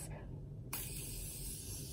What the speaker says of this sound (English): I'm gonna go in with my Morphe setting spray and go ahead and set my face